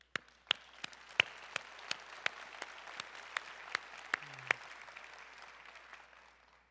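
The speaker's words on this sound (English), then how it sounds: "I'd like to give you a round of applause" Applause from a crowd at a university fall commencement ceremony, steady distant clapping with a few sharper nearby claps standing out, slowly fading toward the end.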